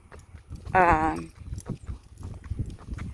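Horse stumbling on the ground, uneven hoof clip-clops close by with a short whinny or snort near the start, spread across a few seconds under the rider's talk.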